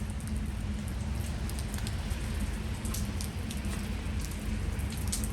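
Rain falls outside a vacuum, central vac and sewing machine shop, a steady dense patter of drops on surfaces with a continuous hiss and scattered sharper tapping, close and fairly loud, with no talking.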